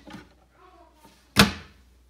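A wooden toy kitchen drawer opens with a single sharp, close thunk, just after a brief stretch of quiet talking.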